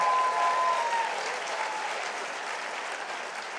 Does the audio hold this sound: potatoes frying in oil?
no